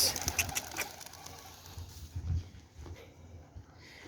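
Pigeons kept indoors give soft, low coos, with one fuller coo partway through, amid faint rustling and patter.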